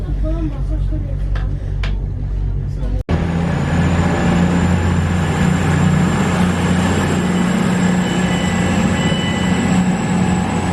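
Train rolling along rails on a Midlands line near Kettering, a steady loud rumble and rattle after a sharp jolt near the start, continuous throughout with no clear speech.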